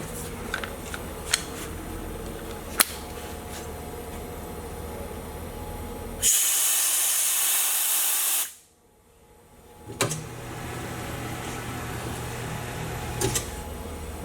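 Air rushes out of an open tire valve stem with the core pulled during a tire swap onto a 17-inch Jegs SSR Spike front rim, a loud steady hiss lasting about two seconds that then cuts off abruptly.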